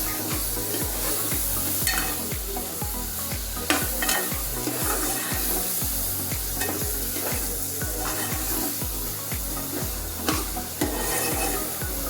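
Homemade ground masala paste fries in oil for a black pea usal. It sizzles steadily throughout, and a spoon scrapes and stirs the pan in a regular rhythm of close, repeated strokes, with no voices.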